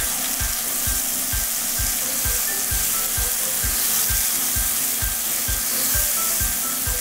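Peeled, roughly chopped tomatoes sizzle steadily while being stir-fried with beef in a pan, with a regular tapping of the spatula about twice a second throughout and no talk.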